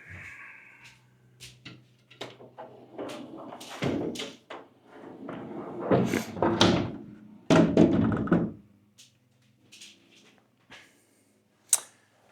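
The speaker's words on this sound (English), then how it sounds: "So I'm going to go and close these doors and see if that improves it." Doors are shut one after another indoors during a painting session, producing several dull thumps and thuds spread over about twelve seconds, with a faint hum between them and a sharp final knock near the end.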